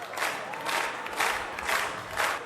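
Wedding guests applauding for the groom Alisher at a Karakalpak wedding hall, rhythmic clapping in roughly five even bursts, a full crowd close by.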